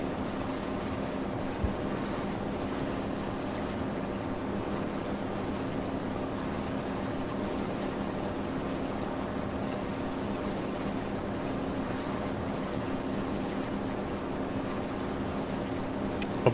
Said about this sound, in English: Yeah, even so, 4 outboard motors, it's still pretty rapid.